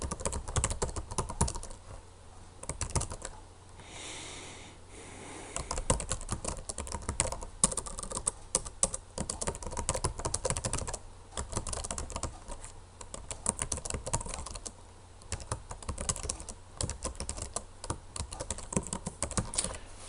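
Rapid clicking of typing on a computer keyboard runs close and clear for about twenty seconds, broken by a couple of short pauses, with no voices.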